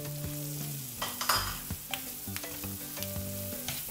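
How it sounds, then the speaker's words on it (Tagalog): Mushrooms stir-fried in a pan, with steady sizzling and frying hiss broken by repeated scraping and stirring clatters, close and moderately loud with no talk. "I-stir fry lang natin to for about 3 minutes"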